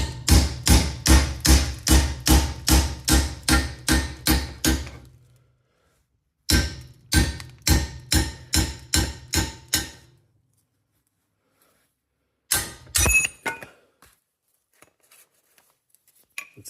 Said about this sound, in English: Metal on metal contact with a hammer,